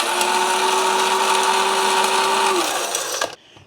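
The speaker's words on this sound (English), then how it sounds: "Once you blend all these beautiful dry ingredients, in your splice blender" A spice blender grinds dry spices such as cumin and coriander with garlic, giving a loud, steady motor whine that holds, then winds down and cuts off near the end.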